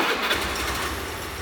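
A motorcycle engine turns over with a rough, faulty-sounding rumble, a brief, continuous, noisy drone heard close up with no speech.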